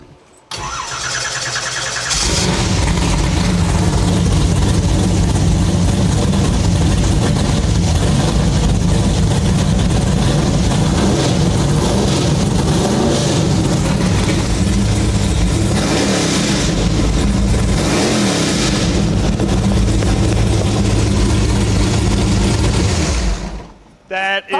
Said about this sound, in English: Now it's time to see what 588 cubic inches of big block Chevy power sound like in the car.